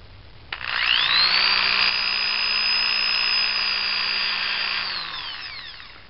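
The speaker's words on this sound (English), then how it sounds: "Then you put holes in the rim of this thing." A power drill bores holes around the rim of a homemade alcohol stove, a steady high-pitched whine that ramps up quickly, holds loud and close for several seconds, then winds down.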